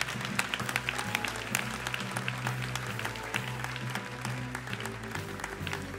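Church congregation applauding and cheering together during a service, a dense steady wash of many clapping hands with scattered sharp claps and voices mixed in, close and continuous.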